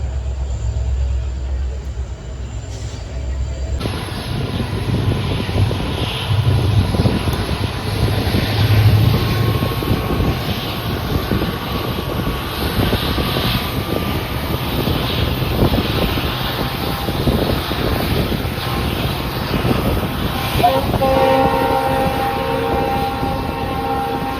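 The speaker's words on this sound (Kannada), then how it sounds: "ಬೊಮ್ಮನಹಳ್ಳಿಯಿಂದ ನಮ್ಮ ಟ್ರೈನ್ ಡಿಪಾರ್ಚರ್ ಆಗ್ತಾ ಇದೆ ನೋಡಿ." A Yesvantpur Express hauled by a WDP 4B diesel locomotive pulls out of Bommanahalli, a steady broadband rumble and rolling rail noise building and holding throughout, close and loud with some wind buffeting.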